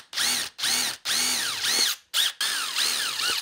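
A power driver sends screws into a mountain bike tyre in six short, close bursts of whirring motor whine that rises and falls in pitch, separated by brief pauses.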